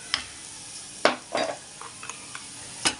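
A spoon scrapes and stirs chutney of dried chillies and curd in hot oil, giving a few sharp clinks against the pan between soft sizzling, irregular and close.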